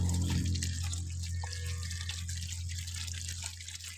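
Water trickles and splashes steadily onto compost over a low constant hum, with no voices, lasting a few seconds.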